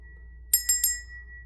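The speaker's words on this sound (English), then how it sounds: "And then I just kind of let the bell fade away, you know, kind of over time" Three quick strikes of a small hand bell used in a tarot deck cleansing, each bright ring followed by a thin sustained tone that trails off over the next second in a quiet room.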